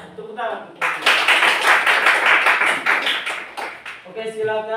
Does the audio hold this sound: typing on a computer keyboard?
no